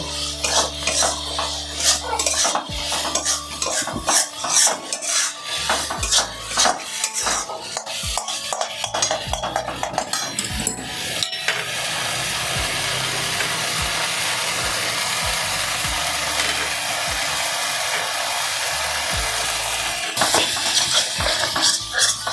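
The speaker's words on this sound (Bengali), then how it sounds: "আমি এটাকে পুরো ভাজা ভাজা করে নেব" Prawn shell paste with green chillies and coriander leaves is stir-fried dry in a pan, a busy run of metal spatula scrapes and clinks against the pan over a steady frying sizzle, loud and close, with no talking.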